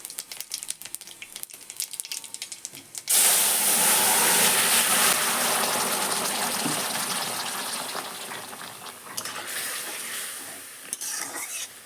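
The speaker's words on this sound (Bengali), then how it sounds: "এবার তরকারিটা ঢেলে দেবো।" Cooked green banana curry is poured into a pan of hot oil tempered with spices and whole white cumin. After a few quiet seconds of clatter comes a sudden loud burst of sizzling that slowly fades, close up and without talk.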